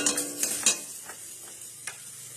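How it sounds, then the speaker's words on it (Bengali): Pointed gourd (potol) pieces frying in a pan: a soft sizzle under a few quick scraping stirs and sharp clicks in the first second, then quieter frying with an occasional tap. "এই দেখো পটল ভাজা"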